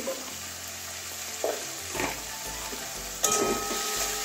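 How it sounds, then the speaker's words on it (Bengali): Spice paste with turmeric frying and being stirred in a pan for a Bengali snail and spinach curry, a steady sizzle with occasional louder scrapes and spatters, close and without talk. "এবারে ভালো করে মশলাটা কষিয়ে নেব। হলুদ দিয়ে দিচ্ছি"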